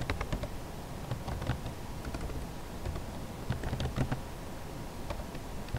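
Typing on a computer keyboard to enter terminal commands in Ubuntu, with scattered soft key clicks in irregular bursts over a steady low background hum, no talking.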